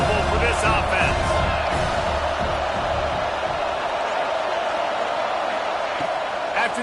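Steady, dense stadium crowd roar from an NCAA 26 college football video game, Georgia Tech at Notre Dame, a continuous loud wash of noise with faint cheering swells and no clear gaps.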